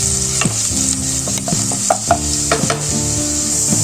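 Onions fry in a pan while being stirred, giving a loud close sizzle with repeated scraping and clattering strokes spread across the clip and no voices.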